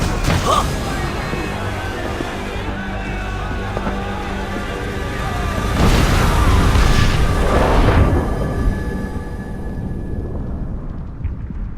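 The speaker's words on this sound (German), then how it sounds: "kaum sind wir auf dem Schiff, geht das auch schon gerade unter. Oder besser gesagt, explodiert in 1000 Teile." A ship blowing apart in Assassin's Creed Black Flag, with a sustained heavy rumble of explosions and crashing wreckage that swells into a louder burst midway, then thins out toward the end as voices murmur beneath.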